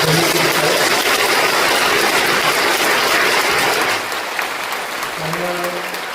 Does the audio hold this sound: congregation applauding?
yes